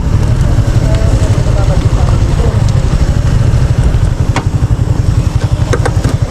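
A motorcycle engine idles close by with a steady, throbbing putter, continuous throughout, with a few faint clicks and background noise mixed in.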